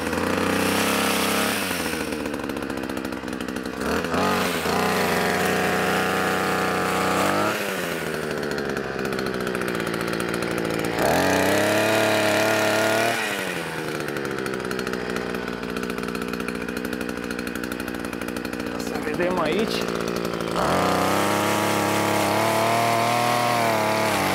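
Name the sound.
Ruris DAC335 52cc multifunction brush cutter pole saw cutting plum branches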